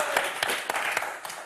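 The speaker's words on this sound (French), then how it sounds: "Michel, Daniel, on vous applaudit fort" Studio audience on a French word game show applauding two contestants, a dense crackle of clapping with a few sharper peaks, steady and close throughout.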